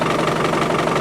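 An Isuzu 4BD1T turbo diesel engine running just after a cold start at -4°C, a steady close rumbling idle with a slight knocking rhythm, heard alone.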